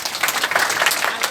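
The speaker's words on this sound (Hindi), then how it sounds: "मैं सर के सम्मान में तालियां चाहूंगा" An audience claps together in honour of the chief guest at an Altos business seminar in Durg district, a steady close burst of applause lasting a second or so with no talking.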